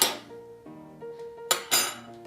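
A metal spoon and other cutlery clink against dishes while kitchen tools are laid out for making an icebox cake, with several bright sharp knocks and ringing tones, close and fairly loud.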